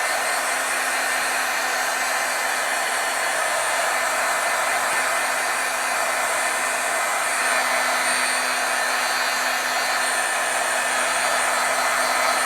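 A hair dryer blows steadily and loudly for the whole stretch, drying pigment ink on vellum, with no talk.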